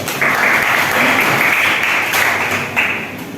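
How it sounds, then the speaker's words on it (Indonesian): A classroom applauds a student named Ramadan during a lesson: steady, dense clapping from many hands, fairly close and loud, holding for about three seconds before tapering off. "Tepuk tangan buat Ramadan."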